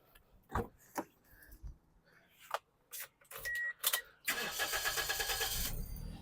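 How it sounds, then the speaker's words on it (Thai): A Toyota Altis 1.8 G's engine cranks and catches, then settles into a steady idle, preceded by a few clicks and thumps from inside the car. "สตาร์ททีเดียวติดนะครับ เครื่องเดินนิ่งเรียบนะครับผม"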